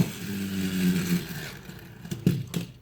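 A GX Racers toy car is launched with a ripcord, giving a steady close whirring hum that holds for about a second and a half, then fades out into a few sharp clicks and knocks.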